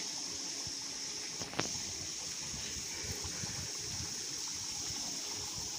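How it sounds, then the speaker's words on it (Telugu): Steady rushing water pours down like a waterfall into a temple pond beside cave shrines at Mallela, Kadapa, a continuous close splashing roar, with one brief sharp knock near the start. "పైనుంచి మనకు నీళ్ళు అయితే పడుతూ ఉంటాయి అన్నమాట. వాటర్ ఫాల్ లాగా పడుతూ ఉంటాయి ఇక్కడ"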